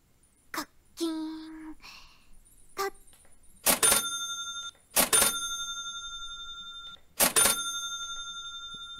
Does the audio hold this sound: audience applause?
no